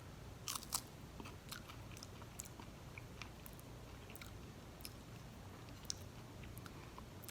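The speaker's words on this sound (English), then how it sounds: "I'm gonna try the tail of this grunt pigfish and see if it's similar." Close crunching on the tail of a fried whole grunt pigfish gives a few sharp crisp bites early, then quiet steady chewing with occasional crackles.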